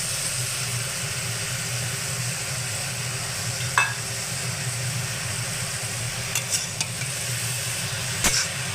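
Cabbage with fried fish head, green chillies and sugar stirred in a frying pan, a steady low hiss with occasional spoon scrapes and clinks against the pan, close and even.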